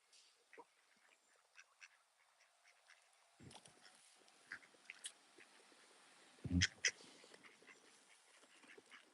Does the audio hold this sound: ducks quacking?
yes